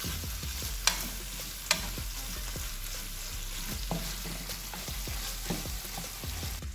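Seafood fried noodles with shrimp and squid stirred in a hot pan: continuous sizzling frying with repeated scraping strokes of a utensil and a couple of sharp metallic knocks, close and fairly loud.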